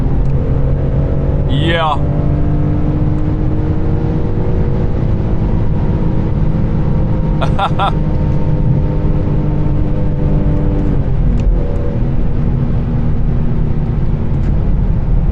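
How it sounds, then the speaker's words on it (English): A car engine with a manual gearbox drones loud and steady, its pitch climbing and dropping through gear changes up to the redline, with a short voice heard inside the car. "I missed fourth gear and then I dropped it back to third and then I redlined it"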